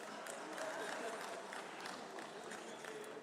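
Applause from members in the European Parliament chamber, a dense spread of clapping that stays moderately loud for the whole few seconds and does not fade.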